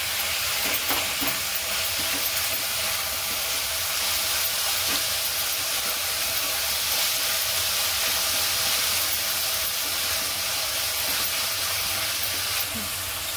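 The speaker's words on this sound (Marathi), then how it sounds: "भाज्या छान तेलावर परतून घ्यायचं आपण" Mixed vegetables sautéing in hot oil for Schezwan fried rice give a steady, loud sizzle and hiss throughout, with occasional stirring scrapes and no talking.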